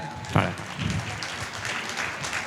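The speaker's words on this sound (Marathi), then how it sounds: "टाळ्या टाळ्या" Audience applause at a karaoke singing competition, a burst of clapping from a moderate crowd that carries on steadily with some voices mixed in.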